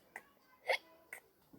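A child hiccups repeatedly in an animated story: four short, quiet hiccups spaced unevenly about half a second apart, the middle one strongest, with no talking.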